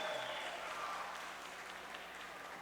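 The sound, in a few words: applause for the teachers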